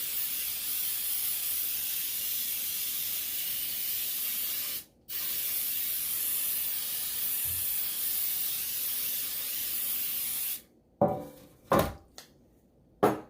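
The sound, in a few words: spraying Baker's Joy baking spray into cake pan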